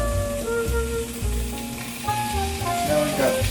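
Hot dog sausages sizzle and crackle loudly in a hot frying pan, with steady hissing and occasional shifts as pieces are moved around.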